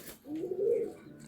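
A pigeon coos once, close and clear, in a single rolling low call at a pigeon sale, with quiet background noise around it.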